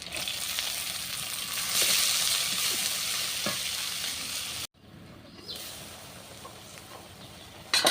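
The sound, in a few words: dried shrimp frying with onions and spices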